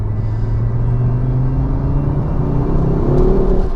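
A warmed-up Ford Focus RS accelerates with a deep, throaty engine and exhaust growl, heard loud and close from inside the car, its pitch rising steadily with no speech.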